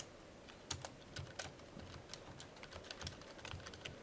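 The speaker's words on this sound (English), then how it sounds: "See if you can type in a series of numbers." Numbers typed on a computer keyboard during a C++ programming lecture, a quiet, uneven patter of individual key clicks close by with no talking.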